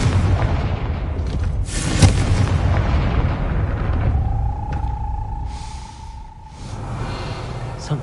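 Confringo explosive spell cast in Hogwarts Legacy on PS5: a sudden booming blast near the start rises over continuous rumbling game ambience, followed by a steady tone and softer background noise.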